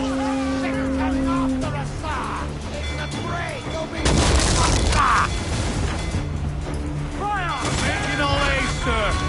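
Cannons boom during a naval battle in a video game, heavy blasts rolling under game music and mechanical clatter, with voices calling out over the gunfire.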